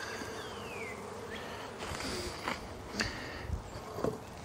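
Honeybees hum inside a shipping package, a faint continuous buzz with a few soft knocks and taps near the end.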